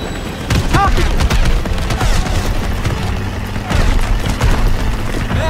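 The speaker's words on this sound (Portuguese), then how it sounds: "Droga, tá atirando na gente!" Enemy gunfire in Call of Duty WWII, loud and close, with rapid shots and booms over a rumbling vehicle and voices.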